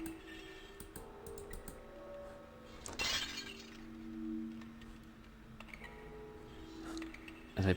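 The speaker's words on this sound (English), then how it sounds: "I heard the sound of glass breaking" Glass shatters in a horror video game, a sudden crisp burst of breaking shards midway through, set among faint clicks and quiet ambient tones.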